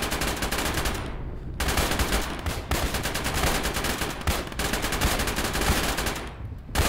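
BTR armored vehicles in the video game ARMA fire heavy, continuous automatic bursts that broke off by brief pauses, loud and dense, with no talk over them.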